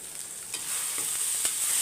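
Chicken thokku masala of onion, tomato and ginger-garlic sautés in a pan, with a soft continuous sizzle and a few scraping stirs, moderately quiet and without talking.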